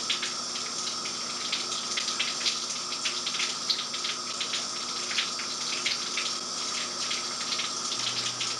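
Shower water running in a steady, close hiss of spray with small splashy fluctuations throughout, no voices.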